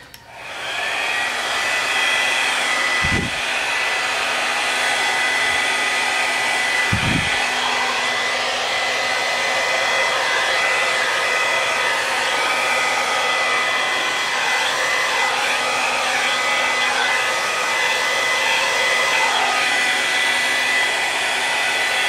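A hair dryer blowing out an acrylic Dutch pour painting, a loud, steady whirring blast running continuously with a faint brief thump near the start.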